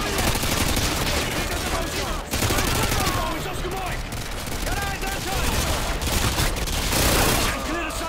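Dense, sustained gunfire from Call of Duty: Modern Warfare 2 (2009) in a campaign firefight at a safe house, rapid automatic bursts overlapping continuously and loudly with booming shots, while voices talk underneath.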